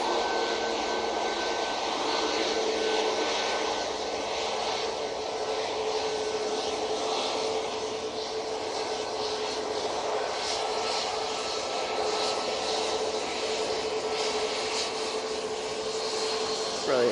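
A Boeing 737 MAX jet rolls for takeoff at Manchester Airport, its engines a steady, moderately distant roar with whining tones that hold across the whole stretch, with faint talk at times.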